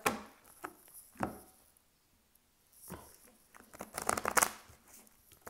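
Tarot cards are shuffled by hand in quick bursts of riffling and sliding, separated by quiet pauses, close and fairly soft.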